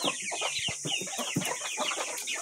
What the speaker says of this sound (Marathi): हो बघा, कोंबडो आहे एक